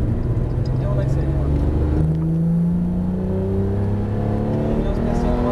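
Onboard a Porsche GT3 RS on a track at La Ferté-Gaucher, the engine pulls hard in a steady loud drone with rising tones, cabin noise throughout.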